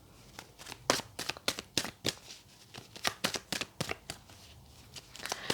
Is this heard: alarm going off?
no